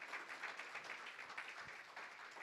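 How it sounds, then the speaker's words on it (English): Conference attendees at a planetarium paper session clap for a presenter, a faint, far-off ripple of many hands that keeps a light, even texture from start to finish. "Let's give Raymond a round of applause"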